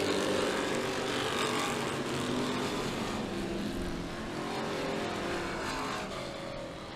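Race cars roar around the oval at Humberstone Speedway, including a metric car, with a dense, steady engine drone holding loud throughout and easing slightly near the end.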